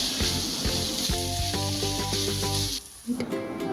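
Ginger, green chili and garlic paste sautéing in a pan, a loud steady sizzle and hiss with a tonal hum underneath, briefly dipping near the end before the frying resumes.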